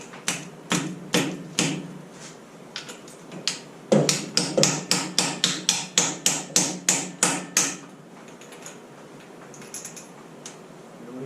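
Sharp metallic hammer taps drive a 13/16 socket down over a valve on an LS engine in a '67 C10 swap project, about twenty close, loud strikes in uneven bursts, speeding into a steady run midway before stopping.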